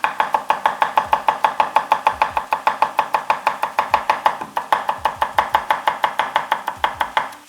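A kitchen knife chops scallion on a cutting board in fast, regular, close strokes, each a crisp tap, with a brief pause midway before the steady rhythm resumes.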